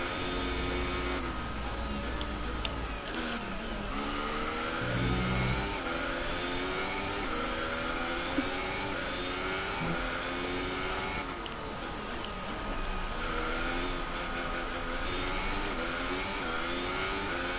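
An F1 race car from F1 2018 on an in-lap, its high-pitched engine screaming steadily through repeated rising revs and gear shifts that keep sweeping up and down, with no talking.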